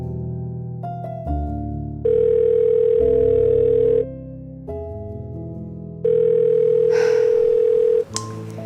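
A telephone dial tone plays while an unanswered call rings out, with steady repeated long beeps that stay loud and clear and are separated by brief pauses, with no one picking up.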